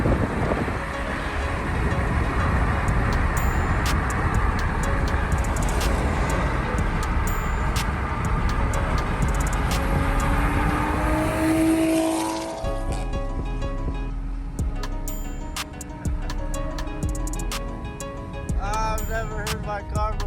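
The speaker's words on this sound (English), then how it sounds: "I've never heard my car before, you guys." A Toyota Supra's engine runs loud and steady, with wind buffeting over it; the roar cuts off sharply about twelve seconds in, leaving a lower, quieter rumble with faint distant sounds.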